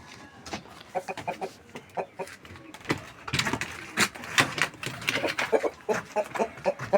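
Rooster and hens clucking close by in a poultry pen, a busy run of short clucks and calls that grows livelier and denser toward the end.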